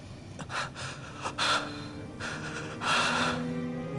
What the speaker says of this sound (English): RPGs just love loud breathing.